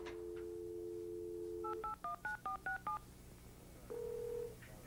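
A landline telephone being dialed: a steady dial tone, then six quick touch-tone key beeps in an even rhythm, then another steady tone, all at a low level.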